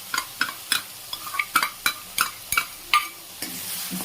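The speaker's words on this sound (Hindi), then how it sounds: "लहसुन और अदरक अच्छे से फ्राई हो गए हैं।" Ginger and garlic paste fries with onions in a pan, a utensil scraping and stirring in quick regular strokes over a soft sizzle, close and with no voices.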